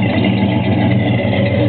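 A 1968 Dodge Charger with a cammed engine and dual exhaust idles close by, giving a loud, steady, rumbling burble with no voices over it.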